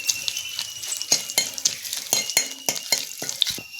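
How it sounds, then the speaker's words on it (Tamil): Bay leaf, cinnamon and whole spices fry in a pan for a Kerala-style kadala curry, giving a close, steady sizzle broken by repeated scraping stirs and light clinks of the spoon against the pan, with no talk. "பிரிஞ்சி இலை, பட்டை, மசாலா ஐட்டம் எல்லாமே எல்லாத்தையும் கொஞ்சம் வறுத்து விட்டுக்கலாம்"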